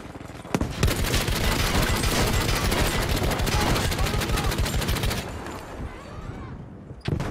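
A .50 cal machine gun firing in Battlefield 5, a loud, close, rapid and sustained burst that runs for several seconds, then stops, followed by a single sharp report at the end.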